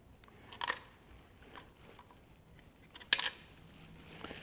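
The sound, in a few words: connecting rod bolts dropped, Massey Ferguson 65 engine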